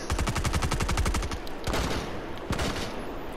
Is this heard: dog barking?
no